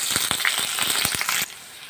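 Green chillies and cumin frying in hot oil, a close, busy crackle and spatter with irregular pops that stops abruptly, leaving a quiet hiss.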